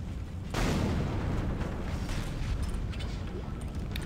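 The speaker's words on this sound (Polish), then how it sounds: "Statek wybucha" A spaceship blows up in the video game Dead Space, with a loud rumbling blast that starts abruptly after a brief moment and rolls on as a sustained roar, while a voice talks over it.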